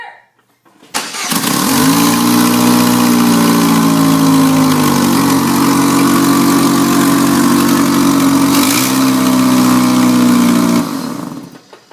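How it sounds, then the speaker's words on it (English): A GM S10 pickup truck engine with an exhaust leak rumbles loudly at idle after starting up, a rough, throaty drone that holds steady with a brief dip in pitch midway. "So it runs nice and smooth and super loud"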